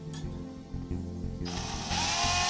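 A power drill bores into the steel chamber of a VZ-52 rifle, a steady close mechanical whir that grows louder and harsher partway through, with no voices.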